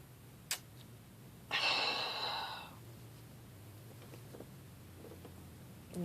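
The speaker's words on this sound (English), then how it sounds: "Please excuse the sniffling." A single close breathy sniffle of about a second, from someone choked up over children left in hot vehicles, over quiet room tone with a few faint ticks before and after.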